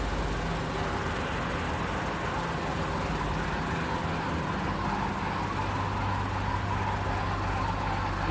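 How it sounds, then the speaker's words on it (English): Drive belts on a running 4400 machine give a steady, broadband whirring rumble with a faint low whine, loud and continuous throughout with no pauses. "These drive belts have always made that noise."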